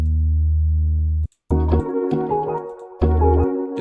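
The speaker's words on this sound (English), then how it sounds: "Then I went to the Fikon synth library, picked the 310 bass sound." A bass patch, preset 310 from the Fikon synth library, plays a deep sustained note, then cuts off for a short gap before returning as choppy, rhythmic chopped bass phrases, loud and alone.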